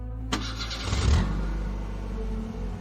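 A car engine turns over and catches, then settles into a steady low idle rumble nearby.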